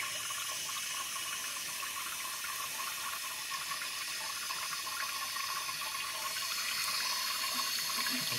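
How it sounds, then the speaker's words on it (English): Water flowing steadily out of the little hose in a 1958 Briggs toilet tank, a faint continuous trickle and hiss with no other sounds. "And still got water flowing out of the little hose."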